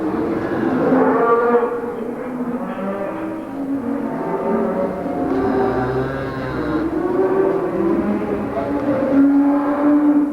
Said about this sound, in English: Not a red one in the bunch, all Holsteins.